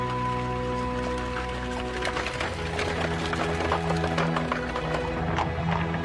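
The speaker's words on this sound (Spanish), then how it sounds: "la diligencia tirada por caballos." A horse-drawn stagecoach on British roads in the Victorian era, hooves clip-clopping in a steady rhythm over a constant rumble and rattle of the heavy coach, moderately loud and continuous with no speech.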